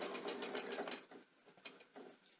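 Sewing machine stitching rick rack onto a quilt binding, a fast steady whir of needle strokes for about a second, then slowing into a few separate, fainter stitch bursts with short pauses between.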